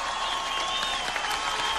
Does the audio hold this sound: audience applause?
yes